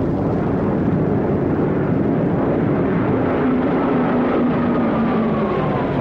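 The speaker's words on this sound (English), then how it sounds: "These are Japanese planes." Japanese warplanes from a WWII-era film fly overhead with a steady, broad engine drone that holds evenly for several seconds, with a faint tone slowly shifting in pitch and no voices.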